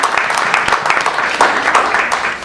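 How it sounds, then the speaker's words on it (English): Meeting audience giving a round of applause, loud, close and continuous clapping from a roomful of people with no talk over it. "Let's give it a round of applause."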